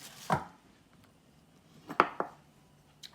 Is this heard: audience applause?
no